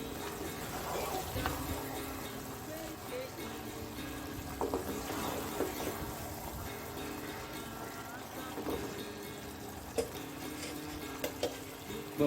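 Thick palm fruit halwa being stirred in a pan with ghee, giving a steady scraping and soft sizzling texture that runs throughout, close and moderately loud, with a few sharper clinks near the end.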